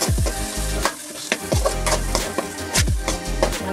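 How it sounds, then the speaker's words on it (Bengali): Chopped tomatoes hit hot oil in a frying pan for a chicken curry, giving a steady loud sizzle broken by clattering stirring strokes and scraping in an irregular rhythm. "টমেটো কুচিগুলো আমি দিয়ে দিচ্ছি।"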